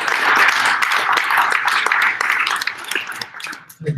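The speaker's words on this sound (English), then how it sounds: "Give him a round of applause" Applause at a crypto meetup in San Francisco, a brief burst of clapping from the audience that thins out after a couple of seconds, with voices mixed in.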